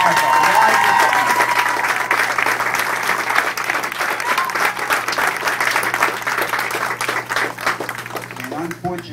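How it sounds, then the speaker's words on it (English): Audience clapping for a charity walk team, with loud, sustained applause from a crowd that gradually thins out, and a voice starting to speak near the end. "everyone should put their hands up and clap for that team"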